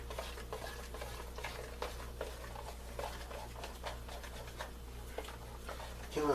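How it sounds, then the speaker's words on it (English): A spoon works through thick cinnamon raisin pancake batter in a bowl, giving a steady wet churning and soft scraping with frequent light taps against the bowl, continuous and close under a low background hum. "I'm mixing it up real good now."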